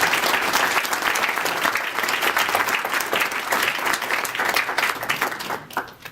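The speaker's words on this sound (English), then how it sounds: "Let's have a nice round of applause for them all." A seated audience gives a warm round of applause at an opening session, dense steady clapping that fills the whole stretch at close range and tapers slightly at the end.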